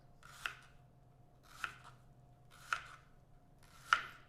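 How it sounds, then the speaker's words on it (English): A knife chops an onion on a cutting board in four separate sharp strikes spaced about a second apart, close and clear over a faint background hum. "So we chopped up our whole onion"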